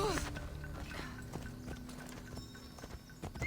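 Horse hooves clip-clopping at a steady galloping rhythm in the video game Assassin's Creed Odyssey, close and continuous, with a brief whinny near the start and game music underneath.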